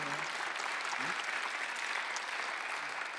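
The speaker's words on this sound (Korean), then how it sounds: "박수 하세요." A church congregation at a Thanksgiving Sunday worship service bursts into sustained applause, a dense, steady wash of many hands clapping that fills the whole moment without letting up.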